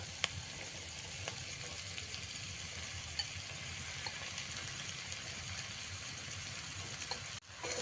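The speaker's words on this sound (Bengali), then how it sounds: "এবারে এর মধ্যে আমি দিয়ে দেবো ভিজিয়ে রাখা সাবুগুলো" Soaked sago pearls go into a hot pan for a vegetarian sago pulao, giving a steady, even hiss of frying that holds throughout and cuts off sharply near the end, with no voices.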